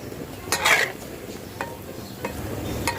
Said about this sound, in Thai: แล้วก็ให้ทอดแบบนี้ไปเรื่อยๆเลยนะคะ